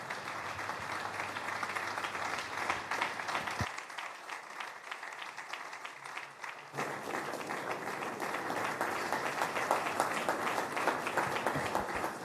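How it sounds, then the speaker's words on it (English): Steady applause from a crowd at a Nigerian public forum, dense clapping that dips briefly in the middle before swelling back up and continuing loudly. "we would give him a powerful applause as he comes once again to the platform"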